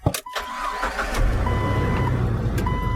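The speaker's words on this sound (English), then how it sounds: "you need to start your car" A 2001 Jeep Wrangler engine cranks briefly and catches, then settles into a steady, loud idle with a low rumble close by, with no talking.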